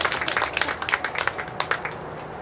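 Light, scattered clapping from a small group at a summer camp gathering, a brief round of uneven claps for a camper that stays moderately quiet and fades out.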